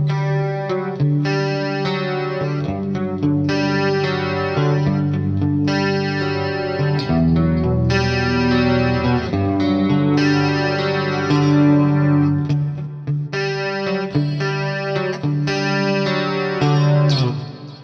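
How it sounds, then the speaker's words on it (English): Clean electric guitar through a chorused, 1980s Rockman-style preset on a ToneX ONE pedal, playing sustained shimmering chords and melodic lines, close and loud throughout with a few short gaps between phrases. "It's like a chorusy sound, very clean sound, based like kind of the Rockman sound from the 80s."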